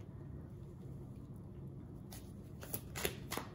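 Tarot cards being shuffled, faint and close, with a soft papery riffle and a few sharper flicks and slaps toward the end over a low steady background hiss.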